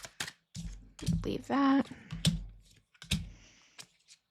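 Tarot cards being shuffled make quick, close clicking and riffling bursts in short irregular runs, with a brief spoken word in between.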